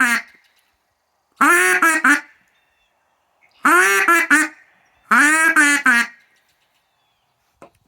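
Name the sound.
duck call imitating duck quacks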